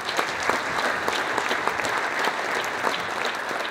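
A dense, steady wall of audience applause at a regional sports awards gala honours judo athlete Lukáš Krpálek, continuous and fairly close, with no voices over it.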